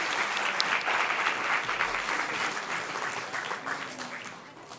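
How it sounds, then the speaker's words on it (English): An audience applauds the speakers at a live talk event, a dense, steady wash of clapping that stays loud throughout and tapers slightly toward the end. "please join me in giving a final round of applause to our speakers."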